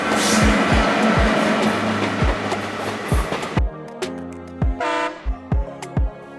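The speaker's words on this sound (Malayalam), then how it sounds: "ഈ കുഞ്ഞു ഹോൺ മുഴക്കുന്നത് ട്രെയിൻ യാർഡിലെത്തി ശുചീകരണ പരിപാടികളെല്ലാം പൂർത്തിയായി എന്നറിയിക്കാനാണ്" Indian Railways train horn giving short toots in a yard after cleaning, first over a dense, noisy roar, then as distinct brief blasts against quieter background.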